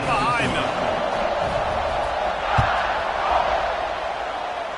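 Stadium crowd at a college football game in Tennessee just before kickoff, a broad steady roar of many voices filling the space, with a brief thump partway through.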